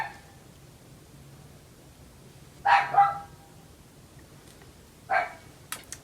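Dog barking indoors in a quiet room, two or three sharp, moderately distant barks spaced a couple of seconds apart over a low background hum.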